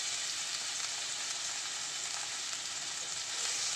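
Garlic sizzles steadily in a hot frying pan while adobong sitaw is cooked, a bright, even hiss that holds close and constant, with no voice.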